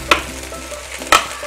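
Cooked ration rice is stir-fried with vegetables and masala in a pan for veg fried rice: two sharp spatula scrapes against the pan stand out over a soft, steady sizzle.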